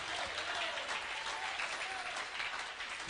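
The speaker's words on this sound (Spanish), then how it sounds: "Dale un aplauso al Señor." Church congregation applauding during a Spanish-language evangelical sermon, a steady dense wash of clapping from many hands filling the room without pause.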